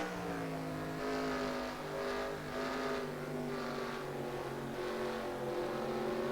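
Several NASCAR race car engines in the NASCAR Racing 2003 video game at Knoxville drone steadily, with pitches rising and falling as the cars accelerate and lift through corners. The sound is continuous and fairly quiet, with no talk.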